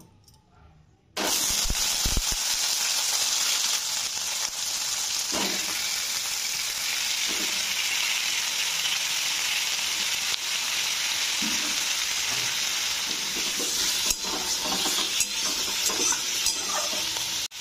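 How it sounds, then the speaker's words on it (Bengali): After a brief quiet moment, chopped vegetables drop into hot oil and a loud, close, continuous sizzle takes over and holds steady to the end, with faint stirring clinks. "এবার আমি আস্তে আস্তে এর মধ্যে এই কাটা সবজিগুলো ভাজতে দিয়ে দেব"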